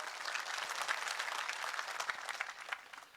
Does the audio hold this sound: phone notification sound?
no